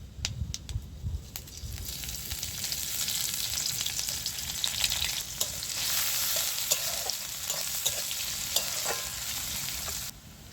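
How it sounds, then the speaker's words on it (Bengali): Onions frying in hot oil in a wok with tempering spices for a snake gourd curry, a steady dense sizzle lasting throughout, with occasional stirring scrapes and crackles, close and fairly loud with no talking. "এবার আমি এর মধ্যে পেঁয়াজটা দিয়ে দিচ্ছি"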